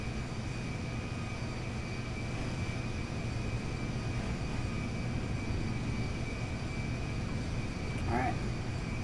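Steady airliner engine drone in a flight simulator during takeoff, a continuous even hum with a sustained high whine, constant and fairly close throughout.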